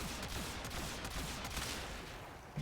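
Rapid bursts of kit gun fire in a video game, a dense, fast volley of shots crackling continuously at moderate, somewhat muffled loudness, with no talk.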